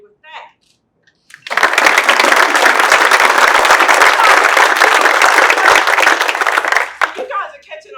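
Sustained audience applause at a North Carolina governor's VinFast workforce event, loud dense clapping for about six seconds that fades out, with brief speech just before and after.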